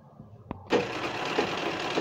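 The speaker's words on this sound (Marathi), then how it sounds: "इथून अशी शिलाई मारायची।" After a brief click, a sewing machine starts stitching dress fabric for a chain fitting and runs steadily to the end, close and moderately loud.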